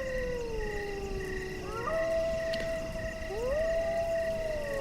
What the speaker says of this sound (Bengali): এবার তার সঙ্গে যোগ হলো শেয়ালের ডাক।